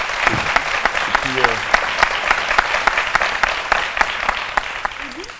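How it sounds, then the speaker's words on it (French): Studio audience applauding on a French midday talk show, a dense sustained clapping wash with a few voices briefly audible underneath. "On devrait applaudir très fort pour ça."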